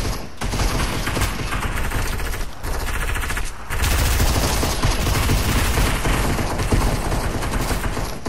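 Dense, continuous automatic gunfire in the Fiend Slayer game mode, loud and close, with two brief gaps before the shooting resumes even heavier.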